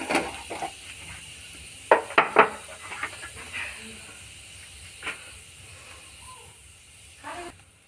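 Cumin seeds hit hot oil for a tempering, giving a brief burst of crackling hiss that settles into a softer sizzle with occasional faint pan clatter.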